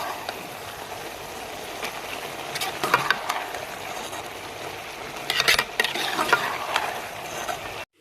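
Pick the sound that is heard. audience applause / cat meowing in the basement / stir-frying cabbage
stir-frying cabbage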